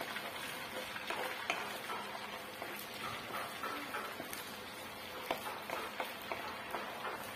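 Ginger paste with sugar and a large cardamom is stirred in a pan for a vegetarian cauliflower curry, a quiet scraping and patter of the spatula with light sizzling, steady and faint, no voices.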